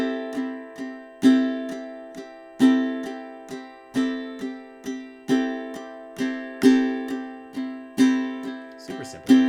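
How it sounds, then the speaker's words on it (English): Ukulele played in steady down strums grouped in threes, the first stroke of each group louder, ringing chords repeating evenly and clearly with no voice over them. "Down strums, 3 beats, and then the accent is on 1"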